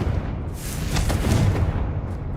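A Confringo fire spell explodes in the Hogwarts Legacy video game, a dense roaring burst of noise sustained across the whole moment at steady, loud level with no talk.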